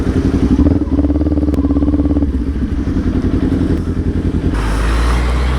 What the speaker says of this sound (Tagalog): Grabe yung sport bike.